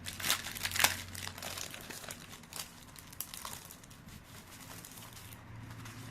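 Crinkly plastic packaging on a haul item is opened close by, with faint, steady crackling and rustling and a few sharper crinkles near the start.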